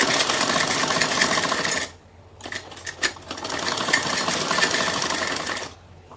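A sewing machine stitches summer suit fabric in a steady whirring run, pauses briefly with a few clicks, then resumes a long continuous stitching burst before stopping; close and loud.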